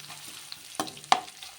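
Crushed garlic cloves dropped into hot oil, heard as a quiet background sizzle broken by two sharp spoon-against-pan clicks, close up with no talking.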